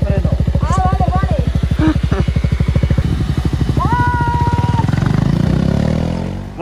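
A Voge motorcycle engine starts up and runs close by, a steady rapid putter that rises in pitch as it revs, with voices speaking briefly over it.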